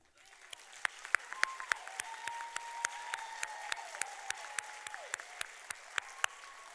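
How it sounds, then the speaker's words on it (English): Applause from an audience at a nursing pinning ceremony fills the space, a steady wash of clapping with sharp individual claps standing out, continuing throughout. "I think that they deserve a round of applause"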